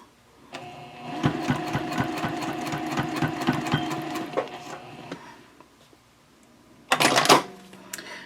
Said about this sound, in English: I'm going to baste the strap connectors into place